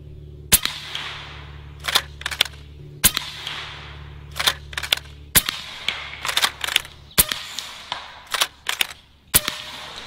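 An AEA Megalodon pump-action air slug gun fires about a dozen sharp, loud shots, spaced irregularly with quick pairs and pauses, each crack followed by short clatter against a steady low background hum.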